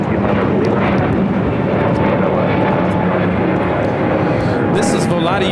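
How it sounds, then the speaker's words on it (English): Volaris Airbus A321neo taking off at LAX, a loud continuous engine roar filling the scene, with voices talking over it. "1711 taking off to Guadalajara on an A321neo"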